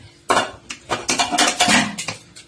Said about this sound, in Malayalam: കുക്കർ അടച്ചു.